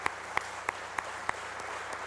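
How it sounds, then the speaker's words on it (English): A few sparse, evenly spaced claps ring out at a workplace safety celebration honoring safety coordinators, about six distinct hand claps over a quiet room tone rather than a full ovation. "These guys deserve a round of applause"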